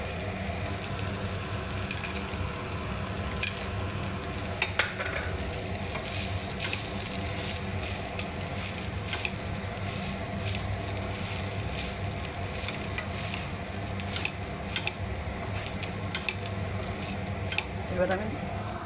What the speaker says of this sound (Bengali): এবারে বাদামটা ছড়িয়ে দিচ্ছি বন্ধুরা